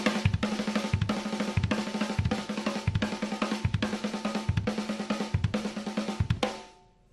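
A kit drummer works through a 6/2 snare and kick pattern in a dense, steady run of loud close hits that ends in a fading ring, with nobody speaking.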